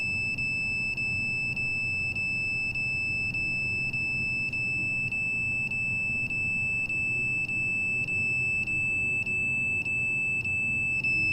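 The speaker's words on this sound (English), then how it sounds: "It's a cell phone that's alarming, right?" A cell phone alarm beeps in a fast, even series of short high pips, clear and steady for the whole stretch, with a constant electronic whine and a low room hum beneath.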